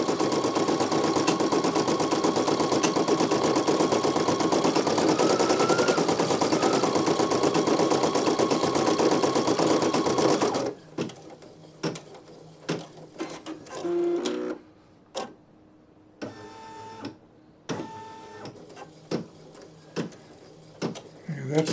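A Brother PE-900 embroidery machine with a 5 by 12 hoop runs in a dense, steady mechanical whir for about ten seconds, then stops, followed by scattered clicks and short motor bursts with a voice speaking.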